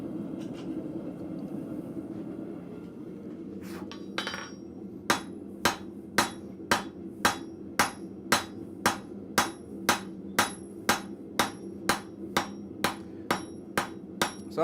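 A blacksmith hammers hot steel on an anvil at a forge, tapering the bar to a square and then knocking the corners down into an octagon. A low rumble comes first, then a steady run of sharp, evenly spaced ringing blows.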